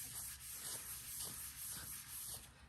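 Silicone tattoo practice skin being wiped with rubbing alcohol, a soft, close, repeated rubbing swish in a steady back-and-forth rhythm.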